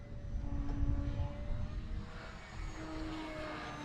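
An electric motor and propeller on a ParkZone Sport Cub S2 RC airplane run at takeoff into the wind, a steady buzzing whine with a low rumble that swells slightly and holds, fairly near, with outdoor wind noise.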